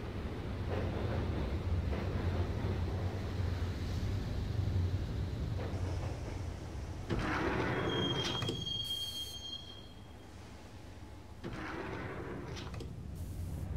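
Train ride in Max Payne heading to Roscoe Street Station: steady rumbling rail noise with wheel squeal and a high tone, then a sliding door shutting, with the ride continuing quieter afterward.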